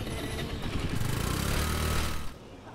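Motorcycle engine running close by, a steady, rough rumbling drone that holds for a couple of seconds and then drops away abruptly.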